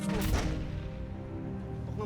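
A single loud gunshot cracks near the start, then rings out into a fading rumble, coming from a nearby firing range at a resort.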